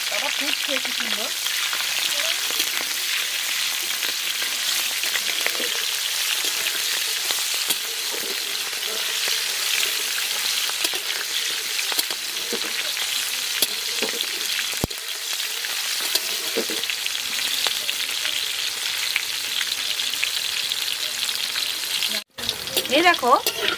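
Slit green chillies fry in hot oil, giving a dense, continuous sizzle and crackle that stays loud and even throughout, with one brief dropout near the end.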